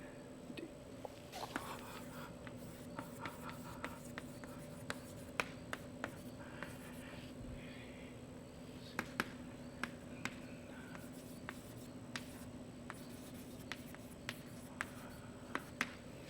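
Pen or pencil scratching across paper as someone handwrites, a faint steady scraping with small taps from the writing hand, close and quiet over a constant low electrical hum in a room.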